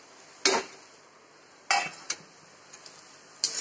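A spatula clinks and scrapes against a pan while ridge gourd peel chutney with peanut powder and turmeric is dry-roasted: a few sharp metallic taps spaced out over a quiet background.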